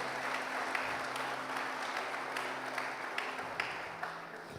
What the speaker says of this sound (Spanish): Vamos a darle ese aplauso fuerte al Señor.